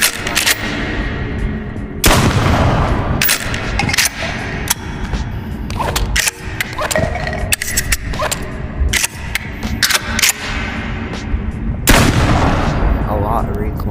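Repeated loud gunshots from guns in a VR shooting game, single shots and shotgun blasts going off in quick succession with hardly any pause between them.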